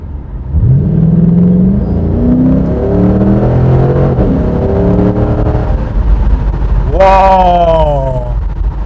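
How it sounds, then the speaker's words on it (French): A 2007 Ford Mustang pulls away from a standing start, its engine rising in pitch through a long, steady, loud acceleration, then a second higher rev climb near the end; no talk. "Allez, on se refait un petit démarrage."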